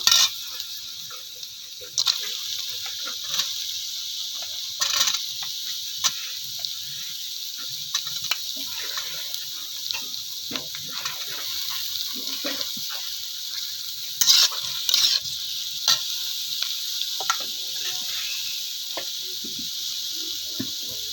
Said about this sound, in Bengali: পেঁয়াজটা একটু ভাজা ভাজা হয়ে গেছে এবার আলুগুলো দিয়ে দেব